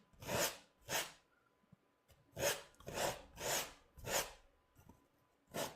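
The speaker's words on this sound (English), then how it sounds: "I want to come in here now and just scrape out as much of this paint as we can." Oil paint being scraped off a canvas with a tool, seven or eight separate rasping strokes in a slow uneven rhythm, close and crisp with near silence between them.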